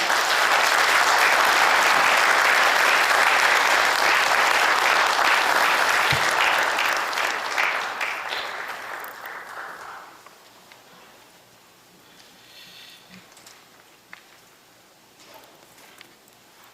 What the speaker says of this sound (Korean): 우리 총회장 나오실 때 박수로 환영하겠습니다